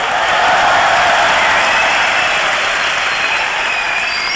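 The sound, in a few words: audience applause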